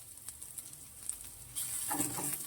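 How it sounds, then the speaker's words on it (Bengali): Sliced onion fries with garlic and ginger in a pan, a faint close sizzle with light stirring taps that swells louder about halfway through. "যতক্ষণ না নরম হয়ে আসছে ততক্ষণ ভাজতে হবে পেঁয়াজটা"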